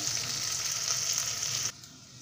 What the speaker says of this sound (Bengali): আমার পেঁয়াজটা প্রায় ভাজা ভাজা হয়ে গেছে